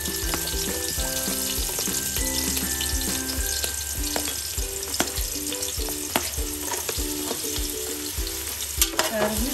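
Carrots fry in a pan for bagara rice with a steady, even sizzle that runs the whole time, broken by occasional soft stirring knocks. Faint music plays underneath.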